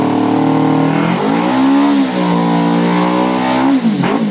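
A go-kart fitted with a Suzuki GSXR 600cc motorcycle engine revs loudly and close by, its pitch climbing, holding high, then dipping and rising again across a few seconds, with no talk over it.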